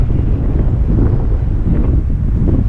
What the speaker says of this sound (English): Really rough today compared to the last few days. Got a 10 to 15 knot wind.